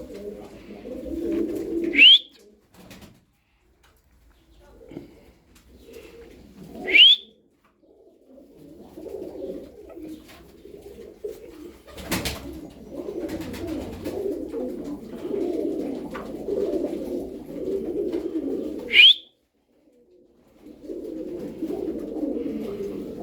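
Pigeons coo in low, rolling murmurs that run on and off throughout, close and moderately loud, broken by a few sharp high squeaks and short gaps.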